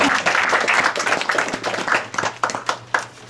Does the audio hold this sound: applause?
yes